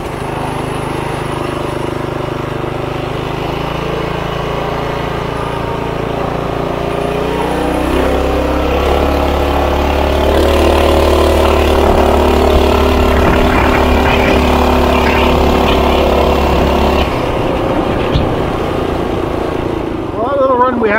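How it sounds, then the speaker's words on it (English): Mega Moto 212 minibike engine cranking with the choke on, then catching and running loudly at a rough idle before revving, close up, with someone talking over it at times. "Fuel on, choke on, ignition on. Oh, it's just so hard to start."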